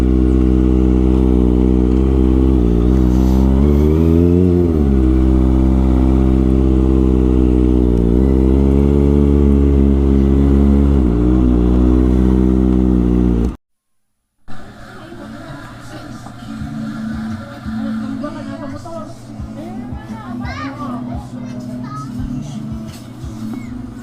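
A motorcycle engine runs close by with a steady, humming tone that rises briefly in a rev, then cuts off abruptly and gives way to a busier, rougher mix of engine and street noise.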